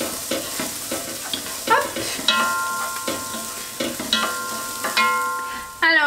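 Potatoes, onion, garlic and turmeric sizzling and being stirred in a cooking dish, with steady frying crackle, scraping stirs and utensil clinks, close up; a voice briefly speaks.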